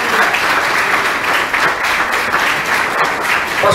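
Congregation at a city church service breaks into dense, steady applause for church members at a graduation ceremony, loud and continuous for a few seconds.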